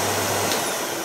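A vacuum cleaner runs continuously at close range, giving a loud, steady whirring drone like air conditioning, with no voices over it.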